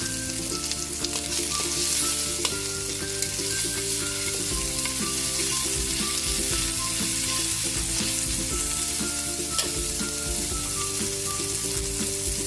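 Garlic and onion sauté in a pan with a loud, continuous sizzle and frying hiss, broken by occasional stirring scrapes, close to the ear with faint music underneath.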